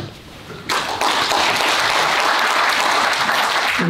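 Audience at a marine leisure forum breaks into applause after a presentation, starting abruptly after a quiet moment and holding as a dense, even clapping to the end.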